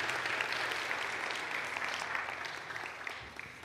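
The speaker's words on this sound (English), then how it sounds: "Can you give all these folks a great big round of applause?" A church congregation gives a warm round of applause, with dense, steady clapping filling the room and slowly tapering off toward the end.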